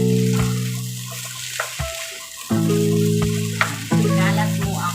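Chinese fried rice with oyster sauce being stirred in a pan, with steady frying sizzle and a few louder spatula scrapes and knocks against the pan, close up and without talk.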